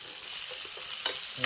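Courgettes fry in olive oil in a pan, making a steady, bright sizzle with a couple of small crackles and scrapes near the end. No one speaks.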